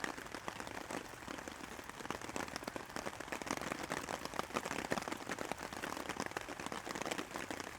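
Steady rain patters on a surface, a constant crackling hiss of drops at moderate distance, with no talking.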